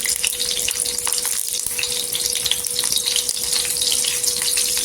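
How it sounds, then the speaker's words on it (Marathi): Green chillies fry in oil on a flat griddle, a steady close sizzle and crackle that runs without a break, with a faint constant hum underneath and no talking. "इथे तेलामध्ये मिरची टाकून घ्यायची"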